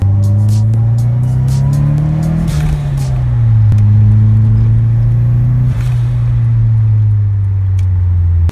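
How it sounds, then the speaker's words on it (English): A loud drift car engine holds a steady, throaty drone with rising and falling revs, with brief sharp blow-off valve hisses cutting in near the start. "you can hear the blow-off valve and things like that"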